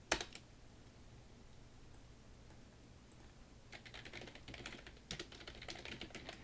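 Keys tapped on a computer keyboard while filling in a PowerPoint exam exercise, a few soft isolated clicks, then quicker bursts of typing toward the end, faint and close against a quiet room.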